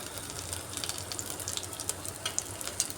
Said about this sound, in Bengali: এগুলাকেও আমি একদম লাল লাল করে ভেজে নিচ্ছি